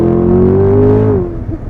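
2021 Chevrolet Corvette Convertible Z51 engine accelerating, a steady, loud, close droning tone that holds and rises slightly before tailing off, heard alone.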